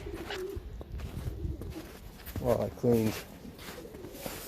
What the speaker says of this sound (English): I would put the birds in this cage here